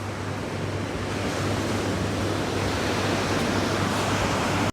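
Heavy sea surf rolls onto a beach after a storm, a loud, steady wash of breaking waves with wind rumble over the microphone, continuous and alone.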